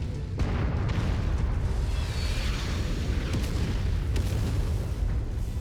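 Loud, continuous rumbling explosion as artillery is destroyed in the mech combat game MechWarrior 5: Mercenaries, a heavy booming roar with a few sharper bursts layered over it and no talking.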